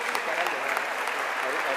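A graduation audience applauds eleventh-grade graduates with a continuous, dense roll of clapping from a large crowd, steady and moderately loud, with a voice faintly audible underneath.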